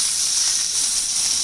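Chopped green chilies sizzling in a hot pan for aloo tikki filling, a steady bright frying hiss with no pauses.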